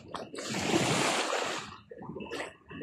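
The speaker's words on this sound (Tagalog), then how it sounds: "Ang ganda ng hampas ng alon" Sea waves crash and splash loudly on a beach for about a second and a half, then smaller surges wash in and fade amid breezy outdoor noise.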